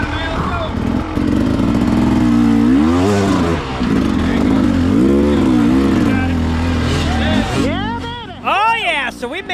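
An enduro dirt bike's engine revs hard as the rider climbs a steep mountain section at a hard enduro race, with repeated rising and falling throttle surges close by and a sharp burst of revving at the end.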